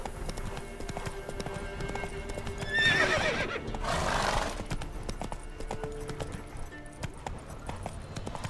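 A horse gallops in The Witcher 3: Wild Hunt Remastered on PS5, hooves drumming steadily at close range, with a loud whinny rising in the middle of the run.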